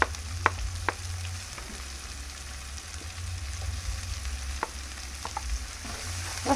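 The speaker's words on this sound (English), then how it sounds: "let's saute the veggies for about a minute" Vegetables for a chicken and cabbage stir fry sauté in a hot pan, a steady close sizzle and fry with a few sharp pops and scrapes, no talking.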